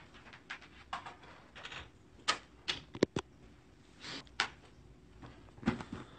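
Moonology oracle cards handled at a reading table: a series of soft, dry shuffles and sharp snaps, faint and close, with uneven pauses between bursts.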